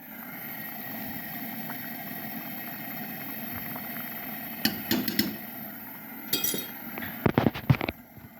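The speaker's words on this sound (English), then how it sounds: "Just stir it up good." A spoon scrapes and clinks against a pot of pear butter with cinnamon and nutmeg, cooking over a Coleman 413-G camp stove. The clatter comes in short clusters near the end, over the stove's steady hiss.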